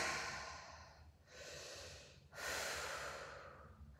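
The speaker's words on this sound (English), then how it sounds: "Deep breaths." Deep, slow breathing during a full-body strength workout, with two long, close, airy inhales and exhales that rise and fall in a clear rhythm and no talk.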